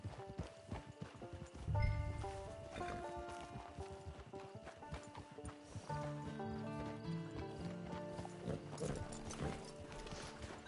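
Horse hooves clip-clop in Red Dead Redemption 2, a steady walking rhythm under a layered orchestral game score, with a brief neigh or snort near the start.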